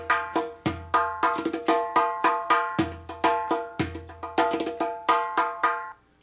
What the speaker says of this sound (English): One of the instruments is a darbuka on the left,